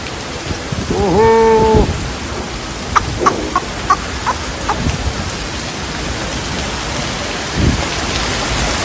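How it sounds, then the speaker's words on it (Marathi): Heavy unseasonal rain with hail pours down in Killedharur in a dense, steady hiss, while a rooster crows briefly near the start and scattered clucks sound through the downpour. "असला मुसळधार पाऊस"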